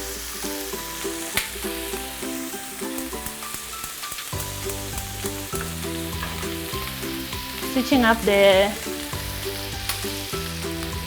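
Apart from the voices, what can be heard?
chicken strips sizzling as they cook in a pan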